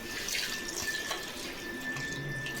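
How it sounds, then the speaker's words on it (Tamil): Water pours into a pot in a steady splashing stream, bright and close, running continuously for a couple of seconds. "1 லிட்டர் தண்ணி போடுங்க கரெக்டாக."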